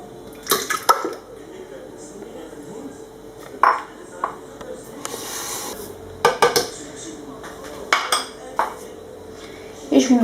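Eggs dropped into a blender jar while preparing a chocolate cake, giving sharp clinks and knocks against glass at intervals over a quiet kitchen background.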